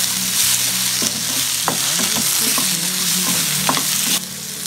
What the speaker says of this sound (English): add the chopped beans. Give nice saute.